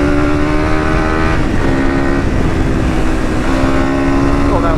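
Honda CRF300 dirt bike engine revving hard through a wheelie on a bush ride, a loud steady buzzing drone with shifting pitch, wind rush throughout and a voice talking over it.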